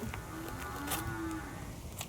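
A water buffalo lets out a drawn-out, nasal moo that rises and sustains for about a second, heard at moderate distance over faint farmyard background with no talk.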